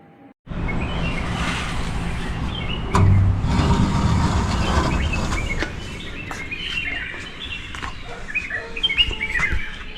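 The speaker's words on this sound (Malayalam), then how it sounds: "ഇഷ്ടംപോലെ കിളികളുടെ സൗണ്ടൊക്കെ കേൾക്കാം നമുക്ക്." Many birds chirp and tweet at a Munnar resort in the early morning, with scattered close calls over a steady background hum of distant traffic.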